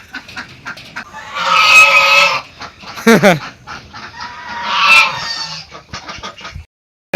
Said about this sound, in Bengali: এখানে একটা লাল ঝুটি মোরগ